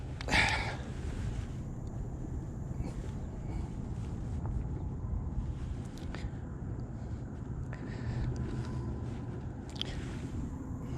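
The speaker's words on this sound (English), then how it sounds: "Wind is drifting me in." Steady wind rushes and buffets the microphone on open water from a boat while gar fishing, a continuous low roar with faint watery sloshing and no talking.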